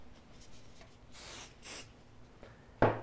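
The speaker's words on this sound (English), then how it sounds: "I'm finishing off with the Quage finishing spray" Quage hair finishing spray is misted over a styled faux hawk in two short, soft hissing bursts, close and quiet, followed by a sharp brief knock near the end.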